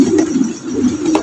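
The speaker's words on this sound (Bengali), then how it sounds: "আজকের ভিডিওর 5 নম্বর কবুতর মন্ডিয়ান" A Mondain pigeon coos loudly and close by in a steady run of low throaty pulses filling the moment, with no voices.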